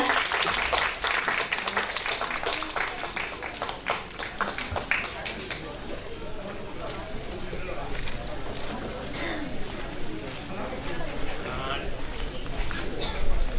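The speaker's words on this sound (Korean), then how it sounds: "박수로 환영해 주시기 바랍니다." At a lotus-root and turnip kimchi festival, an outdoor audience claps steadily in welcome for a speech, with voices mixed in throughout.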